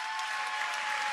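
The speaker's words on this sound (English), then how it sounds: "I'd like you to give Debbie Altenberg a really big round of applause." Audience at an eighth grade promotion ceremony applauding, a steady wash of many hands clapping in a large room, sustained and even, with no talk over it.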